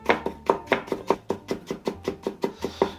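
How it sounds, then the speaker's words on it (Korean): A knife slicing carrots thinly on a cutting board: a steady, even run of about a dozen crisp, close chops in quick rhythm, with no talking. "평평한 부분을 바닥으로 놓고 칼질을 이렇게 하시면 안정적이다"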